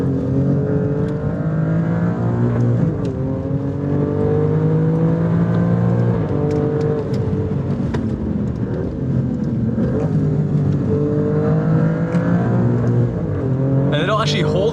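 2024 Alfa Romeo Stelvio Quadrifoglio accelerating hard on a race track with quick gear shifts, a loud continuous engine drone rising and dropping in pitch at each shift, heard from inside the cabin with a person talking over it.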